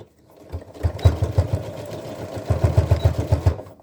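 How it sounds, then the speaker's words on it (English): A sewing machine backstitches a seam on a homemade sports backpack, forming a paracord casing, with two close bursts of rapid, rhythmic stitching separated by a brief pause and no talking. "We're going to go ahead and sew that down. Okay, so making sure we backstitch here,"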